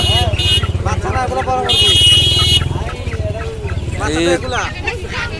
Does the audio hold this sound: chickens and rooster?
yes